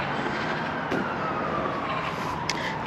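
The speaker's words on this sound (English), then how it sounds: "Lots of sirens going off." Sirens wail in the distance over steady outdoor background noise and traffic rumble in Stoke-on-Trent, UK, faint but continuous throughout.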